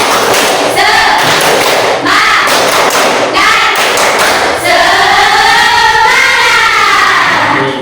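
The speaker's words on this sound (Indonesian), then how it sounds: "Tepuk semangat" A classroom of students performs the 'tepuk semangat' patterned clapping routine, with firm rhythmic hand thuds in bursts and voices chanting along over the claps, loud and close.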